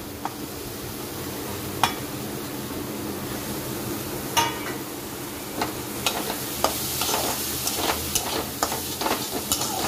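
Chili and tomato sizzle in a pan with a steady frying hiss, broken by occasional sharp clinks and scrapes of a spoon stirring.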